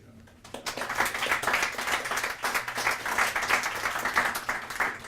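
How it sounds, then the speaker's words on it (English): Audience applause at a poetry night event, a dense, sustained round of many hands clapping that starts abruptly after a brief quiet moment and keeps going at an even, fairly loud level. "give a last final round of applause"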